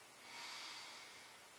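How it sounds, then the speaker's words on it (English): A slow, steady inhale through the nose in a comfortable seated yoga position: a soft, close breathy hiss that swells and then holds evenly for under two seconds, with no talking. "breathing in"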